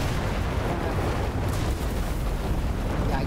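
Tank cannon fire and explosions in the WW2 video game Enlisted form a dense, continuous rumbling roar of battle noise with no clear pauses.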